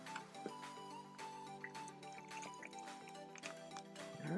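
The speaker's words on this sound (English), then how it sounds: "all we're gonna do is top it off with some ginger ale" Ginger ale poured over ice to top off a Bombay Bramble cocktail in a glass: a steady, fizzing, gurgling pour that rises as the glass fills, close and clear, with no talking.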